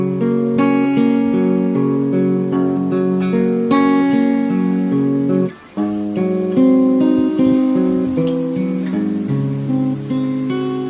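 A guitar picks out the rolling chord pattern of a song, loud and close with steady arpeggiated notes, a brief pause near the middle, then the pattern resumes and continues to the end.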